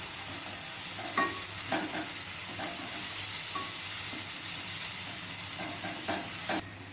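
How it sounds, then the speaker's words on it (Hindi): Tomato masala for black chickpeas fries in a pan, a soft even sizzle with occasional light scraping stirs and clicks, fairly quiet and with no voices. "ये मसाले को मैंने अच्छी तरीके से भून लिया है"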